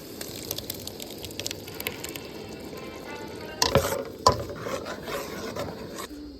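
A masala of onion, garlic, tomato, cumin, pepper and tamarind goes into hot oil for a crab rasam. A quiet crackle gives way to sharp sizzling bursts as the paste hits the oil midway, then a steady fry.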